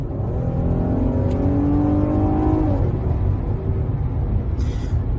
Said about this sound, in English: I'll just give you a quick little tap on the gas, let you guys kind of see how this vehicle does perform